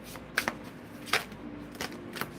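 A deck of playing cards being shuffled nearby, giving several quick riffling bursts with short pauses between them against a quiet room.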